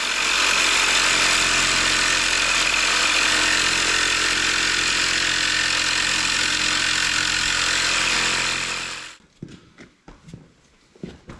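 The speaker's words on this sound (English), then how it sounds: "So we'll give that reciprocating saw a try." A reciprocating saw grinds loudly and steadily through the metal front axle of a Cub Cadet 100 tractor for several seconds, then stops, followed by a few clanks and knocks.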